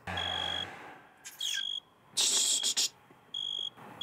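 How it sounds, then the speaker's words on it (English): Cricket chirps come in steady high trills, pausing and resuming in a few separate bursts over a quiet background. "Do you guys hear crickets chirping?"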